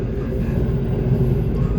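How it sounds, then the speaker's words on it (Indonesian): The Argo Bromo Anggrek express rolls into Semarang Tawang station with a steady low rumble of wheels and carriages, close and continuous for a moment with no voices over it. "Sesaat lagi kereta api Argo Bromo Anggrek tiba di Semarang Tawang"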